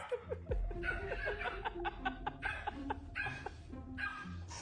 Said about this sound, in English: I featured several clips of dogs accidentally scaring their owners.